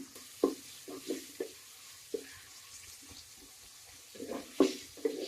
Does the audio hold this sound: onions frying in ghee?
yes